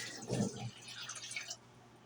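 Milk poured onto sugar in a bowl while making cinnamon roll dough: a brief liquid pour and splash that swells and then trails off within about a second and a half, close by and fairly soft, with no talking.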